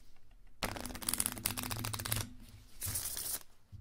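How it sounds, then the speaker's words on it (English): A deck of playing cards is shuffled close up: a long crisp riffling burst of rapid flicks, a short pause, then a second shorter rustling flurry. "So we give them a good shuffle."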